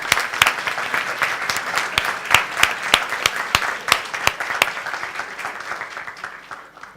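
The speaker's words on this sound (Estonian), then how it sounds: "Ja me võime talle täitsa ka aplausi teha." A conference audience at a 2016 leadership conference in Estonia applauds warmly: dense, steady clapping from many hands with sharp individual claps standing out, sustained for several seconds before slowly thinning.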